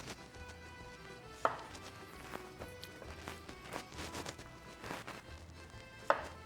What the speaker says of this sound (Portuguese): Vamos começar picando nossos tomates.